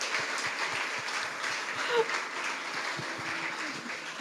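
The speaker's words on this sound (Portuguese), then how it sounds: "é uma salva de palmas para Betinho" Church audience applauding after a sermon, a steady wash of clapping at moderate level with some faint low sounds underneath, no clear speech.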